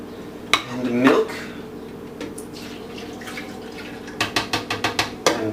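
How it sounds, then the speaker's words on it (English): Egg yolks and milk poured into a blender in a kitchen, with a clink and a short liquid pour early on, then a quick run of bright clinks and taps near the end, close and clear. "So start by adding your egg yolks and milk"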